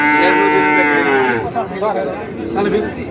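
Cattle at a livestock market, including Sahiwal bulls, give a loud, close moo lasting over a second, followed by fainter lowing and murmuring crowd voices in the background.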